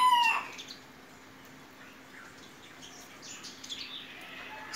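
A rooster-like bird call rings out once at the start, then gives way to quiet outdoor ambience with faint chirps and a low steady hum.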